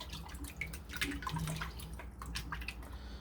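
Water running and splashing over raw potatoes being rinsed in a Dutch oven pot, a steady busy wash of dripping and sloshing with no talk.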